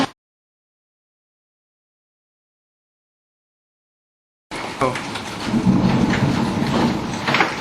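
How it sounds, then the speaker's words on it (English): A summer hailstorm with thunder and rain over Aurora in the Greater Toronto Area. After several seconds of silence, a loud, dense, steady roar of pounding precipitation begins and continues to the end. "Mother Nature unleashed her wrath once again as severe thunderstorms made their way across the GTA."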